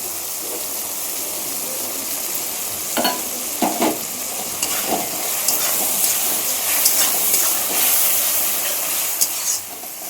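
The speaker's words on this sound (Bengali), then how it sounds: "মশলাটাকে একটু কষিয়ে নেব" A spice paste of ginger and tomato sizzles and fries in a pan, a loud steady hiss with intermittent stirring scrapes and wet bubbling throughout.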